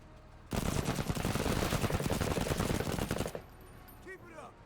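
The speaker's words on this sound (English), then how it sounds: "Let's go with Lim 2 shots." Gunfire in the Menace video game on expert difficulty: a dense, rapid burst of shots lasting about three seconds, close and loud, then ending abruptly with faint electronic tones trailing afterward.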